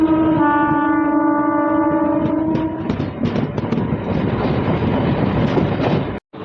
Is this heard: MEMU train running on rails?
yes